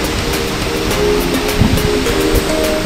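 Madonna waterfall at Hogsback in the Eastern Cape, South Africa, pours in the rain as a steady, full broadband rush of falling water that holds level from start to finish, with no talking.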